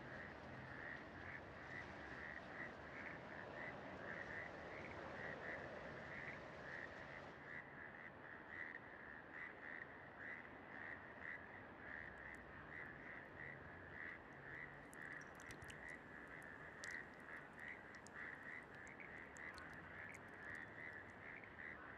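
Frogs croaking to attract mates in Bogotá during breeding season, a dense continuous chorus of many overlapping calls, steady and fairly distant, with no talk.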